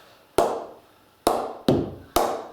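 A cricket ball bounced on a willow cricket bat that has not been oiled or knocked in, giving four sharp, ringing knocks at uneven intervals, close and clear, each fading quickly.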